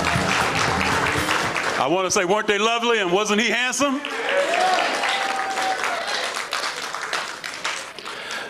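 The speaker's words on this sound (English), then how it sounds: "let's give them all a round of applause again" A crowd at a curvy-girl fashion show applauds its participants with loud, sustained clapping, while a host speaks over it partway through and the clapping carries on afterward.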